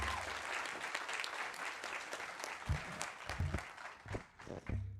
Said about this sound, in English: Y'all go ahead and give Mitch a round of applause